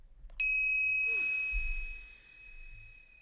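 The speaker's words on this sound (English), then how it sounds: "we can have some breathing chimes when we come back" Breathing chimes ring out during a video game: a single bright ding that lingers as a long, clear sustained tone and slowly fades against a quiet background.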